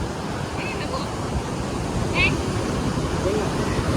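Sea waves wash onto the Konkan shore during a Ganesh immersion, a continuous broad rushing surf with a slight swell midway, while faint voices and brief chirps sound in the background.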